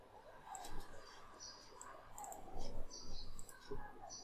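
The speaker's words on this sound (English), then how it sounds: "We'll click on it" A computer mouse clicks several times in a quiet room, with sharp, soft, irregular taps spread across a few seconds.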